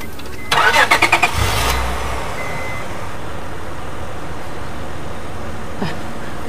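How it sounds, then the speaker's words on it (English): A car's engine cranks in a quick run of rhythmic pulses, then catches and settles into a steady low idle that runs on alone, with a faint click near the end. "Please, can you help me start this car?"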